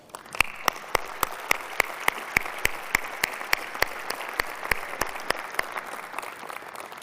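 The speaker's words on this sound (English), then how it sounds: "I think we owe the team at Sony a round of applause." A conference audience at Sony's E3 2005 press event applauds steadily, a dense, even wash of clapping with several sharper individual claps standing out, lasting throughout without speech.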